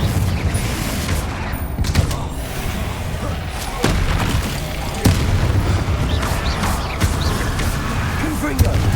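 Confringo explosion spells in Hogwarts Legacy, booming blasts that recur every second or so within dense, loud combat noise. A voice calls out during the fight.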